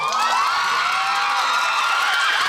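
Loud, continuous cheering and applause from a concert audience at a Seoul Police promotional musical and healing concert stage greeting, a dense roar with high shouts and whoops throughout.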